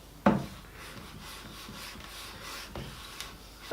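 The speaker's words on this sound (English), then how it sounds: "Trim it up with a file." Hand file rasping along the edge of teak veneer on a drawer box, trimming off the overhang in quiet, steady rubbing strokes after a sharp knock at the start.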